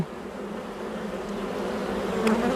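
A steady, dense buzzing of many bees hums close by, with individual insects whining past now and then.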